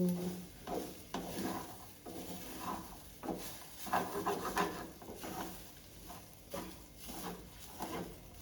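Brown rice fries in a pan for vegetable fried rice as a spoon stirs and scrapes it in irregular strokes, soft scraping bursts over a faint sizzle, close and quiet.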